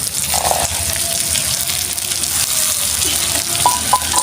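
Shiuli leaves fry in a pan with a loud, steady, close sizzle and crackle that lasts throughout, broken by a few small clinks.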